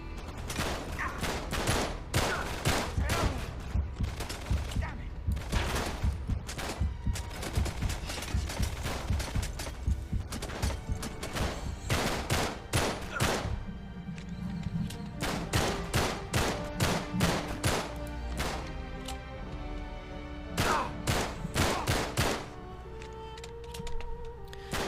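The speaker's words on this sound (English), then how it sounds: "I prefer to use the pistol for very, very accurate shooting" Gunfire in the London Underground chapter of Uncharted 3, a continuous run of sharp, loud shots in quick irregular bursts with brief pauses, steady throughout and with no talking.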